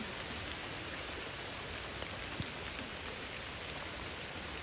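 Steady rain falling in Ubud Monkey Forest, a dense, even hiss of drops on foliage and surfaces, moderately faint and unbroken throughout.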